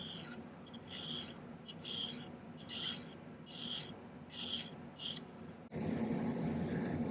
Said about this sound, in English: give this just a little bit of cleanup filing